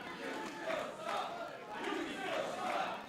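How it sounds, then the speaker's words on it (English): A professional wrestling crowd jeers MJF in waves of loud, rowdy shouting that swells and dips from a distance, with no clear single voice standing out. "The crowd giving MJF the business"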